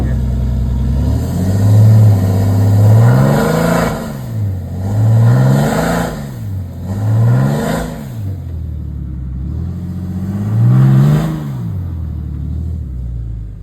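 A Cummins diesel truck engine revs repeatedly in rising and falling surges, loud and close, with several throttle blips across the span and a steady idle rumble between them; no talk.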